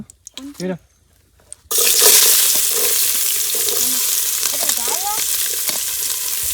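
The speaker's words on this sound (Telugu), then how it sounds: "ముందుగా కొంచెం ఆయిల్ వేసుకుందాం. ఉల్లిపాయలు అయితే వేయాలి." Onions dropped into hot oil for chicken biryani burst into a loud, continuous sizzle after a quieter start with talking; the frying hiss stays steady, with occasional voice in the background.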